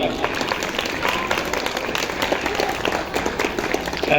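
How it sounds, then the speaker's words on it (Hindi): Loud, sustained audience applause at a school annual day function in Haridwar, dense clapping from a large crowd running continuously with faint voices mixed in. "उन सब के लिए पहले एक बार जोरदार तालियां।"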